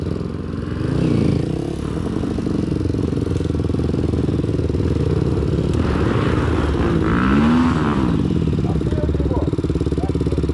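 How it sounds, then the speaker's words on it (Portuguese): A trail motorcycle engine runs loud and close at a rough, clattering idle, revving up and down a few times at an outdoor trail riders' gathering, with faint voices in the background. "Funciona a moto!"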